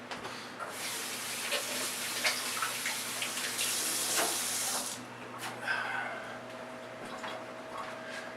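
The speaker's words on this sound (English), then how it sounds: "I'm just going to wash my hands real quick." Tap water runs steadily into a kitchen sink for about four seconds while hands are washed between cooking steps, then shuts off, leaving faint clinks and quiet room sound.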